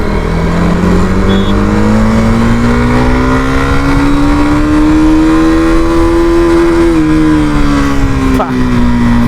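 A KTM Duke 250 Gen 3 motorcycle accelerates hard in first gear, its engine note rising steadily in pitch for several seconds before a brief dip, loud and continuous with some wind noise.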